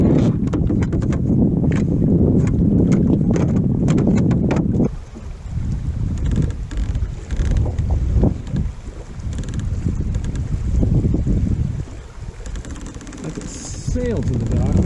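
Sailing kayak moving across Lake Erie in wind, with heavy buffeting wind noise on the microphone and water sloshing against the hull, then gentler splashing and lapping as the gusts ease.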